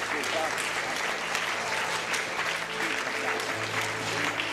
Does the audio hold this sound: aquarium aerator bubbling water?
no